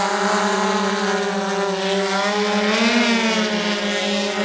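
A SwellPro Fisherman Max drone carrying extra weight hovers and descends, its propellers giving a loud, steady, even whine with a slight pitch rise and fall.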